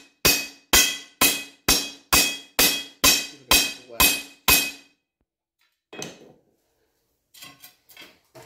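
Nine sharp metallic hammer blows on mild steel ring out in a steady rhythm, each with a short bright ring, then a pause and a few softer knocks and clatters.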